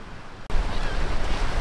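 Gulf of Mexico surf on Carrabelle Beach on a windy day, a loud broadband wash of waves and wind rushing in abruptly after a brief quieter moment, close and continuous.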